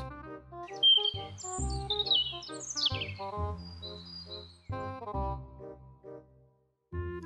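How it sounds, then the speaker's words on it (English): Birds chirp and tweet in quick, high bursts over the first few seconds, set against steady background music with no speech. "Birds."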